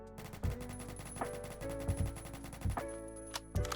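Rapid automatic fire from the L22 rifle in the Phantom Forces shooter game during a recoil test, a fast continuous rattle of shots with heavier punches roughly every second, heard alone.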